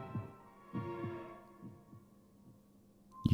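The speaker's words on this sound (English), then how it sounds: "You can hear his breathing and your own heartbeats." Heartbeat sound effect from the Bloody Painter dating sim horror game: a steady series of soft, deep lub-dub thumps in a slow rhythm over a low hum, ending with a louder close thud.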